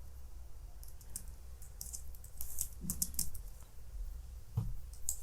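Typing on a computer keyboard during an Adobe After Effects tutorial, a quick run of close, crisp key clicks in bursts over a low background hum, with no talk.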